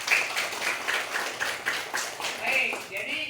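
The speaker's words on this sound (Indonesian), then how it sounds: "Oke, tepuk tangan." A classroom of students claps together in a short, steady burst of dense, overlapping hand claps, fairly close and continuous for a few seconds.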